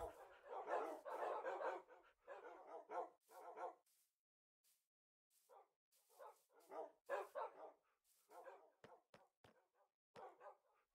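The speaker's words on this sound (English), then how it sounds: "There's a lot of dogs here." Minecraft wolves bark and yip in irregular bursts, several dogs overlapping close by with short gaps, some whimpering yelps near the end.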